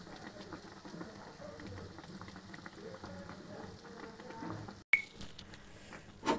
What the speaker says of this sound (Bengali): গরম তেলের ভিতরে দিয়ে দিব। তারপর এক পাশ ভাজা হয়ে গেলে আমি অন্য পাশও এভাবে ভেজে নেব।